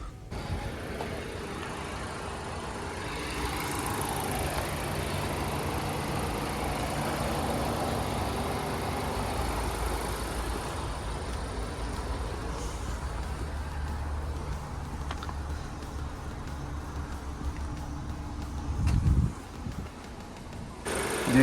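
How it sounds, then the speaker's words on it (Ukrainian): A warmed-up Audi A4 engine idles steadily for a long stretch, a low even hum up close, with a few knocks and handling noises near the end. "розігрівся двигун, хвилин 15 він вже працює, звуків ніяких лишніх немає, що на холодно, що на тепло"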